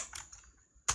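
Computer keyboard keys tapped a few times in quick succession during an Arch Linux install in a Hyper-V terminal, close and crisp, with one sharper final keystroke.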